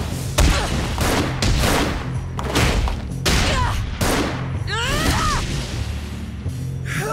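Real gunfire in a Ninja Kamui anime scene: a rapid series of loud, sharp shots with booming echoes, followed by whooshing, swishing sounds near the end.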